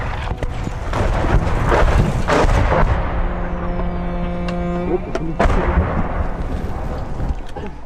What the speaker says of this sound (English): they fire off their entire payload. Rockets rain down like hail